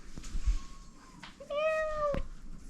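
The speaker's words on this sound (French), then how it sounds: "J'allume la caméra, le chat est là. Il miaule." A cat meows once, close and clear, with a rising then falling tone that lasts about half a second, heard over a quiet indoor background.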